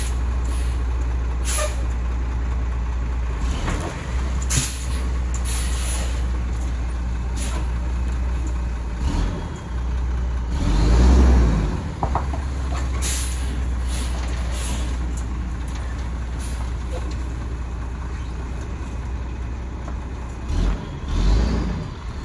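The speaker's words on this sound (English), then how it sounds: "truck." Truck engine idling and rumbling nearby, with sharp hisses of air brakes released in several bursts and a heavier surge of engine noise midway, no talk over it.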